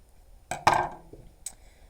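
Scissors snipping yarn for a weaving project, two short crisp cuts close by in an otherwise quiet room.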